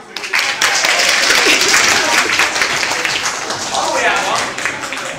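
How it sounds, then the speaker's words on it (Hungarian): An audience at a science show in the Csodák Palotája gives Kristóf a warm round of applause, dense clapping rising quickly and holding for several seconds before easing off. "Óriás tapsot Kristófnak, köszönjük."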